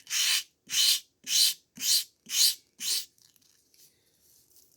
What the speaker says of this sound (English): I'll sand it just a little bit there so you can see.